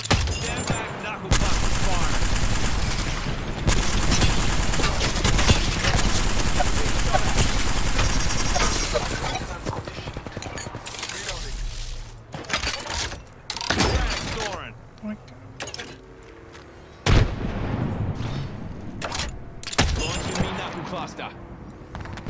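Sustained gunfire in a video game duo match, dense bursts of rapid shots for the first ten seconds, then scattered shots and short volleys, loud throughout with players talking over it.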